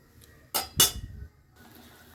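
Katla fish curry stirred in a pan with a little water: two quick metallic clanks of a spoon against the pan, close by, then quiet simmering.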